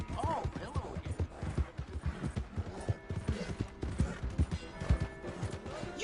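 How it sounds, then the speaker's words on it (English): Horse hooves clop in a rapid, uneven rhythm in the Red Dead video game, close and continuous throughout, with faint creaks and rattles of tack mixed in. "Hey! My horse!"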